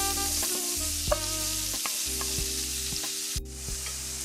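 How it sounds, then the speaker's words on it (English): Shallots sautéing in melted butter in a pan, a steady close sizzle with occasional clinks and scrapes of a utensil stirring, no voices. "If your butter has melted, you want to add in your shallots. And we're going to saute them for 1 minute."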